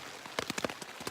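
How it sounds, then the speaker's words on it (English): Steady, light rain on a tent at a camp on the Appalachian Trail makes soft, close patters and taps in a loose irregular rhythm, fairly faint overall. "it's not heavy or anything, but it's just kind of a consistent rain"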